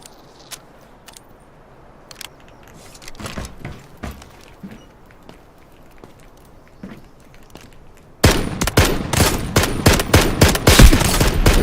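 MK-47 rifle gunfire in the Delta Force shooter game: sparse shots and clatter at first, then from about eight seconds a loud, dense burst of rapid automatic fire continuing to the end.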